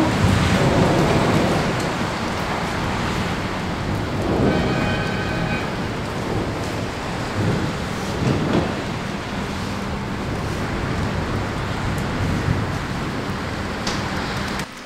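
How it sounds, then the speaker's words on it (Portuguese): Light, steady rain falls outside a house with a veranda, with low rumbles of thunder rolling in the distance underneath the continuous wash of rainfall. "Deu uns relâmpagos, uns barulhos um pouco assustador, mas a chuvinha tá tranquila."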